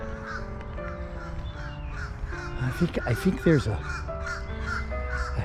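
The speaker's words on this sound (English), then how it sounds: "crows are barking at me" Several crows caw in a cemetery, calling in uneven bursts that swell loudest midway and sit close by, with someone speaking over them throughout.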